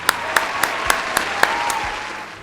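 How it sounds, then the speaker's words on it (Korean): A church congregation claps in response to a request, with about seven evenly spaced sharp claps ringing out loudly in a reverberant room before tapering off. "우리 한번 박수 한번 칠까요?"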